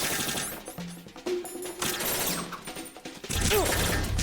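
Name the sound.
gunfire in Metal Gear Solid 2 video game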